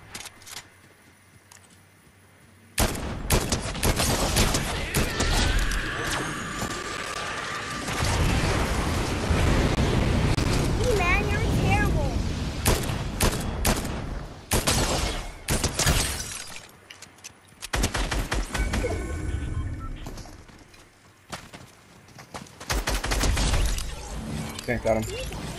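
Gunfire in the Fortnite video game, with sharp bursts of shots and crashing impacts scattered through the clip while players talk over the action.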